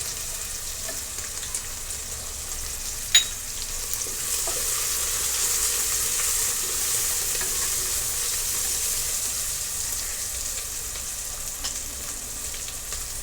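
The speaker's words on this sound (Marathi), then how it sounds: "मी आता ही एक टेबलस्पून हळद आहे ती तेलामध्ये टाकून घेत आहे" A tablespoon of turmeric goes into hot oil with fried vegetables in a pan while cooking masale bhat, giving a steady close sizzle with one sharp clink early on.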